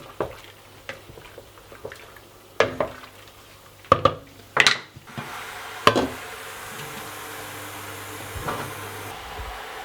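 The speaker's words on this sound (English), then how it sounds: "And now just stir it in." Spoon clanking and scraping against a cooking pan while ingredients for a seafood dish are stirred, sharp metallic knocks at irregular intervals over a low steady hum.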